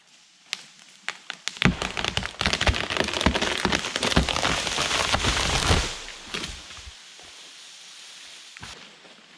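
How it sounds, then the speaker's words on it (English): Heavy rain in Alaska drums and crackles loudly on a surface, building to a dense roar before easing back to scattered drips and taps. "It's raining cats and dogs today."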